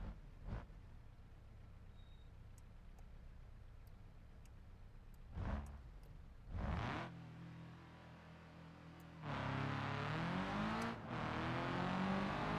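A car engine in BeamNG revs for a launch, a low steady idle rumble building into a loud, rising roar as the car takes off, with a few brief surges and gear-change dips.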